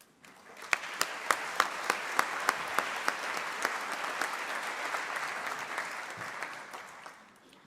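Audience applause fills a large conference plenary hall on forest and landscape restoration in Nairobi, starting with several sharp distinct claps then swelling into dense, steady clapping from a big crowd before fading near the end.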